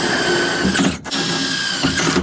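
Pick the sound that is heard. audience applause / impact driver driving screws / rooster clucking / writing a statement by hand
impact driver driving screws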